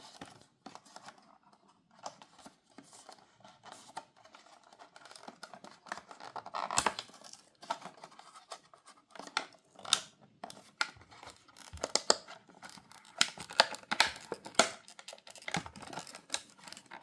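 Scratchy tearing, cutting and crinkling of cardboard blister packaging as a Majorette Premium 1965 Ford GT40 MK1 toy car is freed from its card, in close irregular bursts with no talking.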